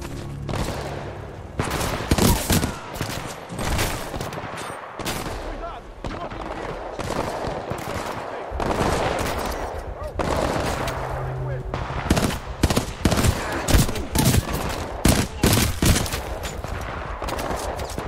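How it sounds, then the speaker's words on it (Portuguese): Burst-fire weapons shooting in Titanfall 2, loud rapid volleys of gunfire arriving in repeated clusters over a steady roar of background action, with some voices mixed in. "Diferentes armas de rajada, velho. Estilo uma Famas."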